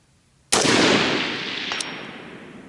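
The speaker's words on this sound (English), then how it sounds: "Cold barrel shot" A single cold-barrel shot from a rifle with a 13.7-inch barrel on an outdoor course, one loud sharp report followed by a long rolling echo that slowly fades.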